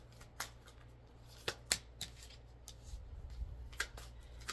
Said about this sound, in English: I'm shuffling the heck out of this deck,